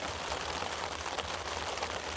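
Steady rain patters densely on a surface on the Isle of Wight, close and constant, with no voices.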